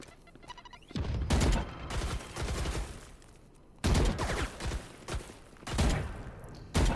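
Loud bursts of video game gunfire and explosions from a high school esports state semifinal match, several heavy blasts and rapid volleys coming in clusters with short gaps between them.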